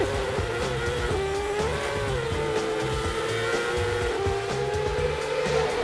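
A Red Bull RB7 Formula One car laps a roundabout, its high-revving engine loud and continuous with pitch rising and falling through the turn, alongside some tire squeal.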